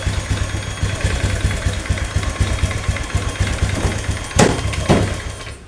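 A 2015 Honda Beat FI motorcycle engine with an injector fault idles unevenly with a low rough putter, then sputters in two sharp bursts before dying out near the end.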